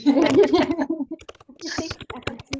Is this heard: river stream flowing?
no